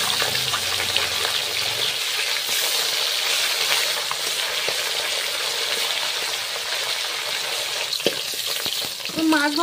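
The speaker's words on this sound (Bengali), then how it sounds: "এবার মাছগুলো দিয়ে দিচ্ছি।" Fish frying in hot oil, a steady loud crackling sizzle that stays dense and even throughout, with a few sharper pops and spatters near the end.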